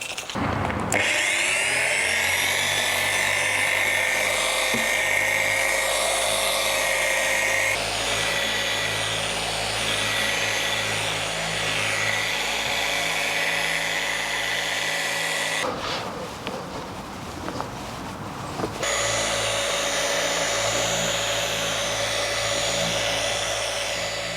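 A power polisher runs nonstop on the paint of a Toyota Altezza, a loud steady whine that shifts in pitch as the pad moves, with a short rougher patch partway through.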